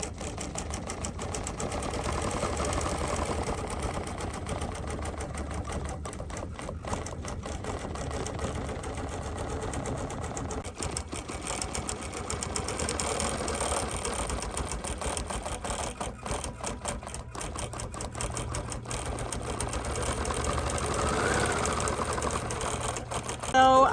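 BERNINA Q24 longarm quilting machine with Q-matic stitching a custom quilt design, a continuous fast, even mechanical stitching hum running steadily and close throughout.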